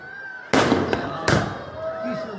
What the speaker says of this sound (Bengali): আমাদের আতশবাজি ফুটানো হচ্ছে।